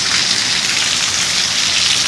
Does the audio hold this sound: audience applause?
no